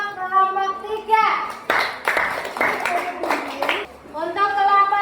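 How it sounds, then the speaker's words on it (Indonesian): A classroom of young children at an elementary school claps together in a short burst for a student group, with children's voices talking before and after the clapping. "Tepuk tangan untuk kelompok 3."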